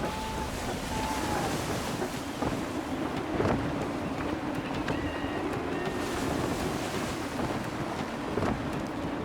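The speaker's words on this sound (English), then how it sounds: "Gusty winds can be difficult to manage." Gusty wind roars steadily around a sailing ship at sea in the Assassin's Creed III video game, with waves washing against the hull beneath it. A few faint creaks and knocks surface from the broad, continuous noise.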